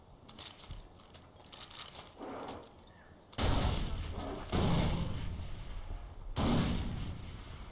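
Gunfire aimed at a rhinoceros in the video game Far Cry 4 comes as sharp bursts and heavy booming shots, a quieter first stretch followed by loud, rough blasts.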